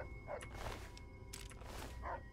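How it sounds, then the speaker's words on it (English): A dog barks in Fallout 3: a few faint, short yips and barks spaced apart, quiet against low background game ambience. "What is he barking at?"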